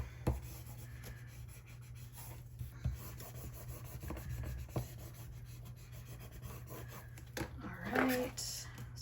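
A soft, continuous rubbing and scratching as stickers are burnished down onto a paper planner page, close and fairly quiet over a steady low hum.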